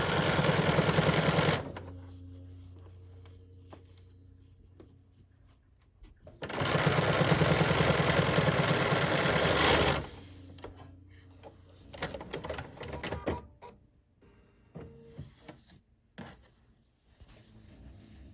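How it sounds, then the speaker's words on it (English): A BERNINA sewing machine with an edgestitch foot runs two loud, steady bursts of stitching along a quilt binding, separated by quieter pauses with small handling clicks and knocks. "a perfectly sewn binding completely by machine"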